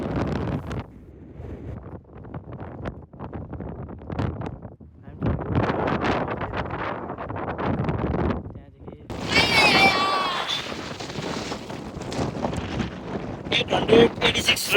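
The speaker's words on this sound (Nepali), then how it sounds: "एकदम windy छ मान्छेले बोल्न जस्तो हावा आइरहेको छ" Strong wind on the summit of Pen y Fan buffets the microphone in rough, roaring gusts that swell for a few seconds and then ease, with people talking through most of it.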